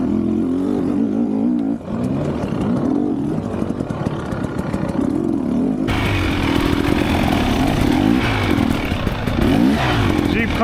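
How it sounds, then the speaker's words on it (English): A 2025 Husqvarna Heritage 300 dirt bike on singletrack trail near Wellsville, Ohio, its engine droning and revving continuously close by, loud throughout with a rough, buzzing tone. "he's on a 2025 Husqvarna Heritage 300"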